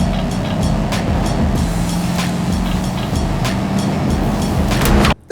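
A single-owner 1995 Chevrolet Suburban with factory four-wheel drive and 36,000 miles rolls along on a test drive, its steady engine drone and road roar holding loud and close before cutting off sharply at the end.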